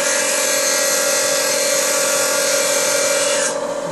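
A file cutting a 29 degree angle on an ACME thread cutter, heard as a loud, steady, dense rasp that holds evenly for several seconds and then eases off.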